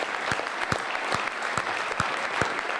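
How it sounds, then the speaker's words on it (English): Audience at a school grand opening ceremony applauding, a sustained wash of clapping with several distinct louder claps nearby, steady and lively throughout. "Could we have another round of applause?"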